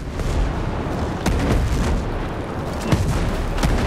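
Gunfire and artillery shots in Ghost Recon Breakpoint form a dense, continuous rumbling barrage with a few louder booms standing out, like heavy combat nearby.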